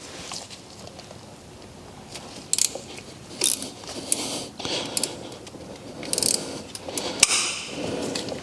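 An 8mm tool works loose a bolt on a Yamaha WR450F dirt bike during an oil and filter change, giving scattered metallic clicks and ratcheting taps at close range against quiet workshop background.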